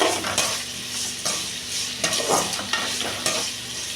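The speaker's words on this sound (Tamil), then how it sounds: "கல்லுப்பு நல்லா கரையும் இல்லை அதனால் ரெண்டு கிண்டு கிண்டிக்கலாம்" Brinjal sizzles in hot oil with rock salt while a spoon stirs and scrapes the pan in several rough strokes, close and steady with no talking.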